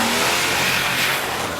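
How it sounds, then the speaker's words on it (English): A Land Rover LR4 with a V8 engine revs hard close by, a loud continuous roar that holds steady and eases slightly near the end, with no one talking. "It also has a V8 engine and every possible trick in the book for going off-road"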